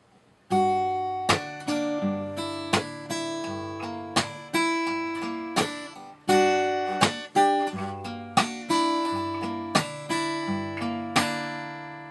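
Acoustic guitar playing, with the thumb and first finger slapping the sixth string for steady percussive clicks between ringing chords, close and alone throughout.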